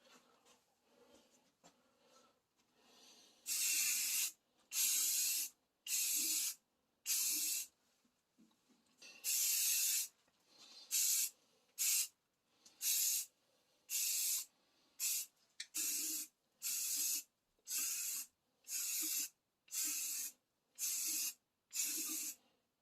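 Aerosol spray can laying a second coat of black paint on car headlights for a blacked-out carbon look, heard as about fifteen sharp hissing bursts of varying length separated by brief silences.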